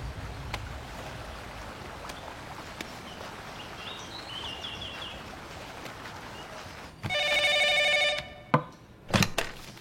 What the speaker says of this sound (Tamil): சார் ஃபோன் வந்துருக்கு.